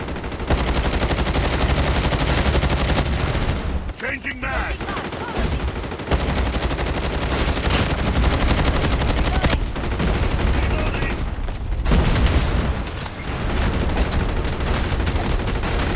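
Dense automatic and rapid gunfire in a Call of Duty Mobile undead siege base defense, loud and nearly continuous, with short lulls around four and eleven seconds before the shooting resumes.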